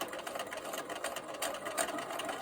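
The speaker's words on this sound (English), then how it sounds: "To sew these corner units, you'll want to put right sides together, line up all the edges," A sewing machine stitches bias-cut quilt corner units for a star sampler block, giving a steady, continuous mechanical whirr that runs unbroken and close by with no voices.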